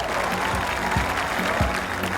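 A golf gallery claps for a shot in an EA Sports PGA Tour video game, with a short burst of steady applause from a crowd.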